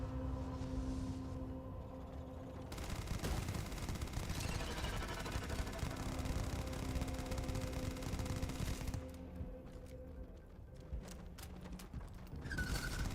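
Rapid automatic gunfire from a weapon in the sci-fi video game Starfield, aimed at horror creatures. A long, dense, loud stream of shots runs almost without pause before thinning into scattered bursts near the end.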